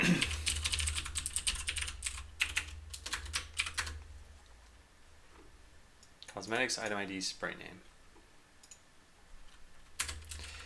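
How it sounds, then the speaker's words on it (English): Computer keyboard typing in quick bursts of clicks, some heavier clacks like a spacebar, fairly close and moderately quiet, interrupted by someone speaking in the middle before the typing resumes. "Sounds like you're hitting a broken spacebar or something."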